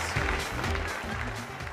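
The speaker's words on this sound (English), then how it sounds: "Give Camelia a big round of applause" Audience applause during a live self-improvement session, a steady dense wash of clapping that holds at an even level for under two seconds with no pauses.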